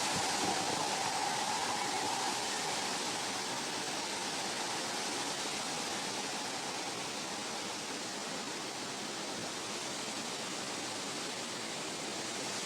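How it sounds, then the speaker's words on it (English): River Irwell flowing after rain, a steady broadband rush of water that is continuous and even, heard from nearby without voices. "Down here's the river."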